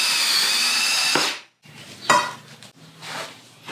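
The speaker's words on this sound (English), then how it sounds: "now I'm cutting the crossbars to length" A power tool cuts metal roof rack crossbars for a Jeep Wrangler TJ overland rack, giving a loud, close grinding burst that stops abruptly, then shorter bursts of cutting and clanking.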